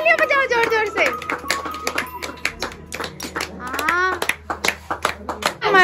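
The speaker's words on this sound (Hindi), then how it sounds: "तालियां बजाओ जोर जोर से।" Family members clap their hands in a home celebration welcoming a newborn baby girl. Rhythmic, close claps run throughout under lively overlapping talk, with voices of adults and children.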